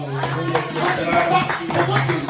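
A church congregation claps together in a quick burst of applause and cheering, with voices mixed in over the hands, loud and close throughout the short moment.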